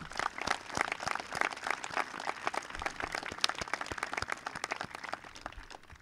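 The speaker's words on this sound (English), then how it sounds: "Let's give a round of applause for all those who have influenced our lives." A graduation audience at Samuel S. Yellin School claps steadily for about six seconds, many hands producing a dense, sustained patter of applause at moderate loudness with no speech over it.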